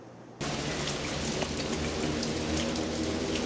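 Steady rain falling outdoors as volunteers carry supplies to a center for children with disabilities, a dense continuous patter that starts abruptly and holds even and fairly close throughout.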